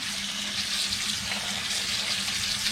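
Hot water gushes steadily from a kitchen tap, a continuous broadband splashing rush with a low hum beneath, no voices.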